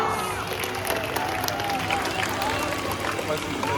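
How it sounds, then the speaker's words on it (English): An audience at an outdoor bird show of birds of prey claps and cheers steadily at moderate volume, with crowd chatter mixed in. "giving them a big round of applause"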